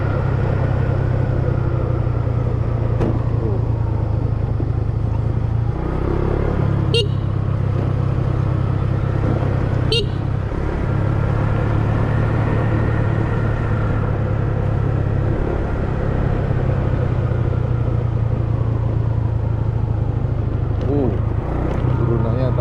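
An automatic Suzuki Skywave scooter riding down a steep, slippery descent toward Kawah Ijen, its engine droning low and steady with brief bumps and gear-shift dips, while a voice talks over it.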